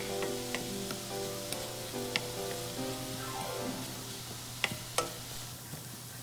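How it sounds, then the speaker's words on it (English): Onion and garlic frying in olive oil in a pan give a steady close sizzle with occasional pops and light clicks, continuous throughout. "Put olive oil in a pan and fry onion and garlic."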